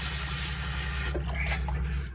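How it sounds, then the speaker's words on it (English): Water runs briefly from a kitchen tap, backflushing a tool, with a steady splashing hiss, close by, over a low mechanical hum that continues throughout. "I'm going to run a tiny bit of water through it"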